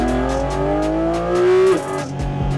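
A 2023 Porsche 718 Cayman GT4 RS engine pulling hard while driving, its pitch climbing steadily through the revs before a sharp drop at a gear change, then building again, loud and close with no talk.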